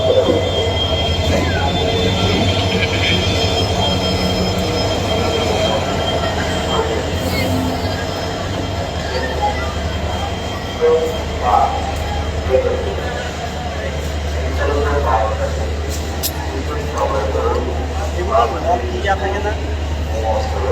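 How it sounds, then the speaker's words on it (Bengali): A train rolls past nearby with a steady low rumble and rail noise, wheels clattering and faintly squealing throughout, while people talk over it in a busy street setting. "একটা ট্রেন গেছে।"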